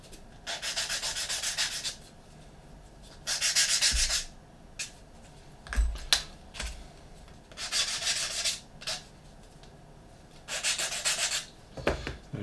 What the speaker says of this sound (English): Give this a quick sand.